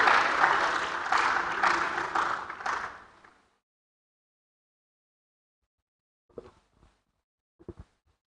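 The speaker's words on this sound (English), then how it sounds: "Shall we welcome Professor Ernest Kofi Davis with a big round of applause?" Big round of applause welcoming a professor at an education event, dense clapping from a crowd lasting about three seconds before fading out, followed by silence and a few faint, isolated sounds afterward.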